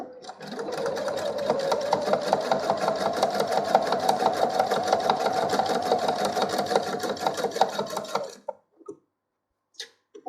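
A sewing machine stitches a simple four-patch quilted coaster, running steadily at a fast, even rhythm for several seconds before stopping abruptly, followed by a couple of faint clicks.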